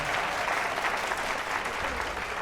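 Audience at a fashion competition applauding a contestant, dense steady clapping from a crowd filling the room, with no pause or talk over it.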